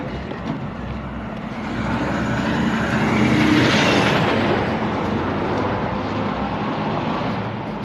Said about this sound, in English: Awful lot of semi-trucks for the quaint small town that we're in.